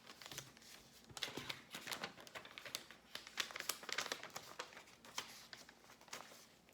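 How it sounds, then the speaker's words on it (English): Paper for a pop-up card being unfolded and a cut shape popped out, a run of close, crisp crinkles and rustles with sharp snaps, no voices. "open up your paper and pop out what you just cut"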